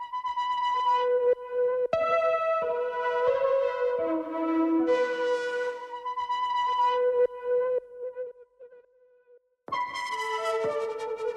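Layered synth tones play a looping pattern of sustained, buzzy notes with echo, briefly dropping out near the end before the full texture returns.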